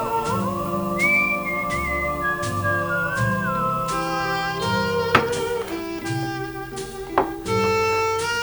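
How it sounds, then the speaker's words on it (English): A person whistles a wandering melody at a camping scene, the tune sliding over sustained instrumental music that dominates, with a couple of sharp knocks near the end. "Whistles"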